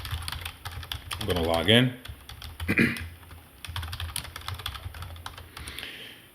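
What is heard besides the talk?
typing on a computer keyboard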